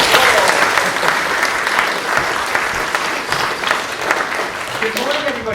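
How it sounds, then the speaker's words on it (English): A school assembly audience applauds during a Science Week assembly, a dense, steady wash of clapping from many hands that fills the room and holds loud throughout. "Let's give you a round of applause."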